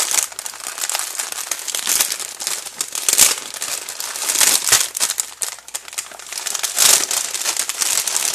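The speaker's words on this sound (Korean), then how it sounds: "이렇게 뽁뽁이에도 감싸져 있고 이 비닐에도 감싸져서 왔습니다." Bubble wrap and plastic film packaging around a newly delivered item being unwrapped, giving a continuous, close crinkling and rustling with louder crackly bursts throughout and no talking.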